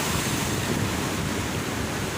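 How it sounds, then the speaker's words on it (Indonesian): Large ocean waves surge at Tambakrejo beach on the south coast of Java in the afternoon as the tide starts to ebb, a steady, dense roar of surf with wind rushing across the microphone and no voices. "Jadi mungkin ombaknya yang biasa besar di sana itu agak berkurang"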